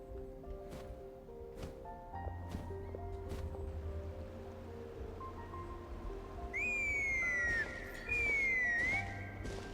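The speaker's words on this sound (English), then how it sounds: "So that was her whistling" A character whistles in a Tribal Chronicles Flower Feather Clan quest: two clear, high whistled phrases that slide downward near the end, over quiet ambient game music and soft rustling.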